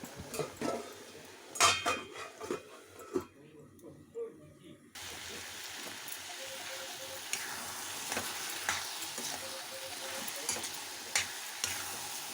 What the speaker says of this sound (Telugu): అడగంటకుండా కూర కలుపుకుంటూ ఉండాలి